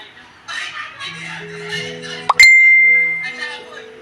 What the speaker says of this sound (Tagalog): Ang ingay ng cellphone.